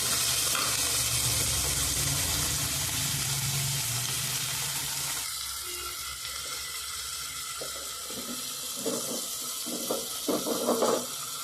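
Tomato and onion frying in a pan for egg biryani, a loud, hissing sizzle that fills the first half, then settles lower with intermittent scraping stirs and clinks near the end.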